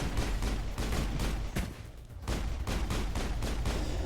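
A pistol in Mass Effect fires a quick, loud string of evenly spaced shots, broken by a brief gap near the middle before the shots resume.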